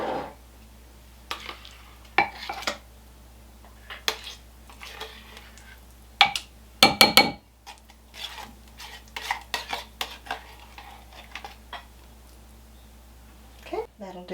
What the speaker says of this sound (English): I'm just going to go ahead and scoop out half of the can